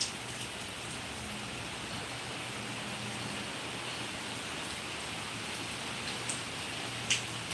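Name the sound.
heavy rain with stormy wind in Kanyakumari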